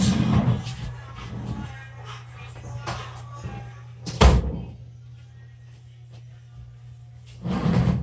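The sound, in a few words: door being closed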